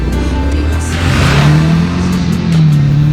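A 2019 Triumph Speed Twin motorcycle engine pulls hard through its strong mid-range, a steady loud drone that rises in pitch as it accelerates, heard close and without talk.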